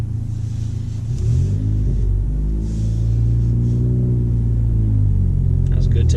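A manual car takes off while a driver learns stick shift. The engine rumbles close by and its pitch climbs and falls as the revs change, with voices faintly under it.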